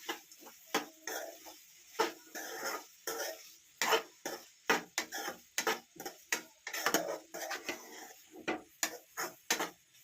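A spoon stirs bitter gourd and okra gravy in a pan, with a quick irregular run of scraping taps and clacks against the metal. The sound is close but fairly quiet.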